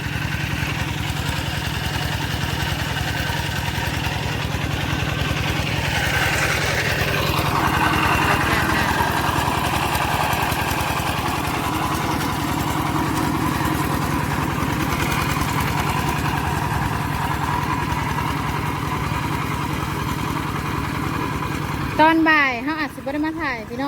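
A water pump engine near a rice paddy drones steadily at idle for the whole stretch, loud and close, with the tone shifting briefly near the end.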